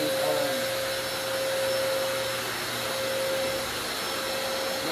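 A wet vac runs steadily while cleaning floors, a loud continuous motor whine with a sharp high tone and airy rush that holds level throughout, with no talk over it.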